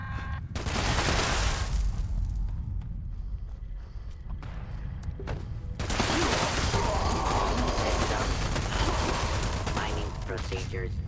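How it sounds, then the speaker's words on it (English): Bursts of rapid gunfire aimed at a robot in Fallout 76, loud dense volleys that stop briefly in the middle and then resume, with faint game sounds between the volleys. "Stop shooting the robot, start shooting me"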